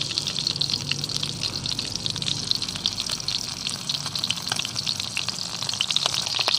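Oyster sauce is poured into a pan of baby back ribs frying outdoors by a riverside, raising a loud, continuous sizzle with bubbly crackle that holds steady throughout, close up.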